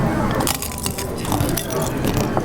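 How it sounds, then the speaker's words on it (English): Crunchy crushing bites into a fake glass bottle prop, a steady run of dense crackling and snapping close to the mic over a couple of seconds, with background noise throughout. "You biting glass? I'm eating it."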